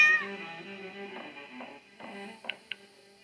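A cat in the horror game Dentures and Demons 2 meows several times over quiet ambient game music, short mid-pitched cries clustered near the end, clear and close with no voices.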